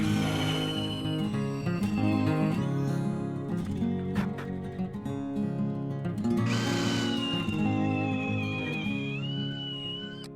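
A power drill bores holes in wood for bolts while building a wooden scaffolding tower, a sustained whining motor drone that rises and shifts in pitch as the bit cuts, close and loud.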